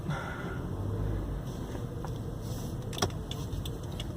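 A car rolls slowly forward toward a small local retail store, with a steady low engine and road rumble, a faint whine and a brief clunk near the end, no talk.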